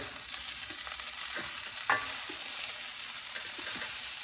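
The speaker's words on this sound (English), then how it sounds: "And we're gonna mix it." Pancit bihon rice noodles frying in a pan are stirred and tossed, a steady close sizzle with scraping strokes and one sharper clack, no voices.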